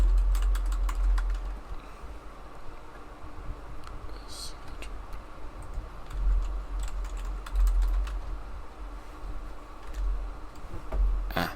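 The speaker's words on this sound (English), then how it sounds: "watch me type wrong" Typing on a computer keyboard during a live stream, with steady, fairly close clicking keystrokes in irregular bursts over a low background hum.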